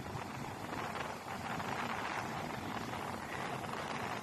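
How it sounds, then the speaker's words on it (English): Wind gusts steadily across a shingle beach at Newgale in West Wales on a cold day as the tide comes in, a loud, constant roar buffeting the microphone for the whole stretch with no pauses. "The wind has picked up and the tide is coming in."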